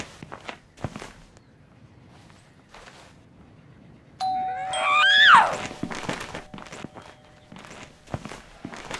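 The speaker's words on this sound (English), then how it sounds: "Even the doorbell is mocking me." Soft footsteps patter through a quiet interior in Schoolboy Runaway, then midway a doorbell rings with a bright, close, melodic ding-dong chime before the steps continue.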